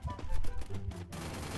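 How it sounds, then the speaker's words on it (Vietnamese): Dense bursts of gunfire from a shooting video game in a survival battle mode, loud and rapid with overlapping shots, then a steadier rumbling stretch in the second half. "À thằng Linh Ngọc này bắn tốt đó nhỉ."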